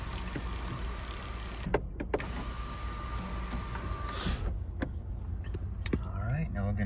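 Inside a 2013 Nissan Altima SV, an electric motor whirs as the sunroof or power windows move, a thin steady whine lasting a couple of seconds amid faint cabin clicks and handling noises.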